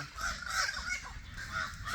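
Birds in Jamaica caw and squawk repeatedly over a steady outdoor background, several harsh calls overlapping at moderate distance.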